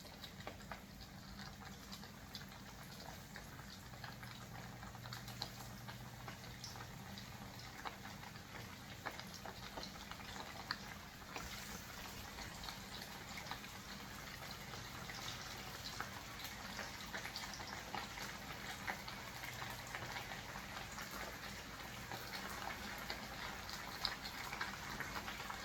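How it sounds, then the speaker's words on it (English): Food fries in a pan while cooking orange glazed pork fried rice, a faint, even crackling hiss that runs steadily throughout with scattered small pops and no voices. "We just want to fry it enough to get it nice and browned and crispy."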